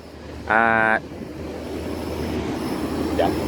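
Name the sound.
train passing outside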